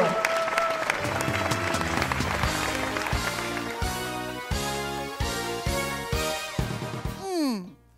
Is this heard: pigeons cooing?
no